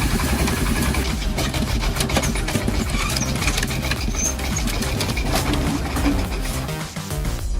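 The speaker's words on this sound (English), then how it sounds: "The sound of the engine clattering mixed with the sound of the wheels grinding on the rocks" A loud, rough truck engine clatters and rumbles continuously, with wheels grinding on rocks and rattling layered over the steady drone, on a mountain forest track.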